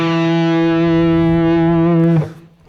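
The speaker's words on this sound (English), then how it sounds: "See, I make this slight bending trick." A distorted electric guitar lick with a slight string bend sustains as a bright, buzzing held note with rich overtones, then cuts off abruptly near the end, leaving a brief fading tail.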